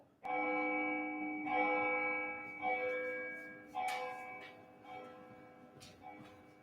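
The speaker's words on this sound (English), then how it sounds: "Ring the bell!" A bell rings out with a sustained, resonant tone during a stage performance of Macbeth, struck again a few times so the ringing swells and slowly fades.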